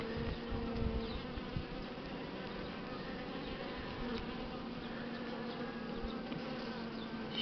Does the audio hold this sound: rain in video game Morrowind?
no